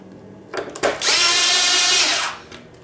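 A power drill drives a screw into a hoverboard shell during a double-board repair: a couple of short bursts, then one sustained high whine lasting over a second before stopping, close and loud.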